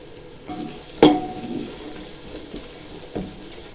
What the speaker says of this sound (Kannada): ಈರುಳ್ಳಿ ಚಿಕನ್ ಆ್ಯಡ್ ಮಾಡ್ತಾ ಇದ್ದೀನಿ.